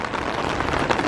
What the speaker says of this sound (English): it is an absolute torrential downpour